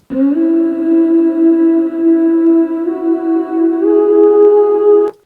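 A pitched-up, autotuned vocal holds a long, smooth note that steps up in pitch a couple of times, with a reverberant sheen and no words.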